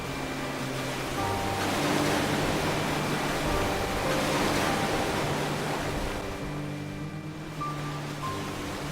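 Sea waves crash and wash near a lighthouse in a broad, roaring rush that swells and recedes, with a low tonal hum underneath, steady and fairly loud throughout.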